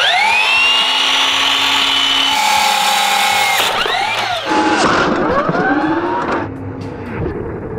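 A loud power saw whines and bites into material while making a DIY weapon, its pitch dropping and surging repeatedly as the blade loads up and frees during the cut.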